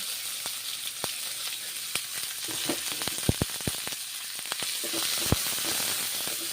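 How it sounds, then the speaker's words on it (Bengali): Garlic and then onions fry in a pan for a spiced pointed gourd curry, giving a steady bright sizzle with scattered clicks and spatula taps, close and moderately loud, no voices. "ভেজে নিচ্ছি রসুনগুলো তারপর পেঁয়াজগুলো ভেজে নিচ্ছি"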